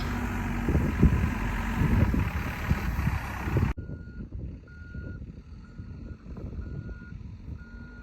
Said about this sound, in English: There's Nick using the backhoe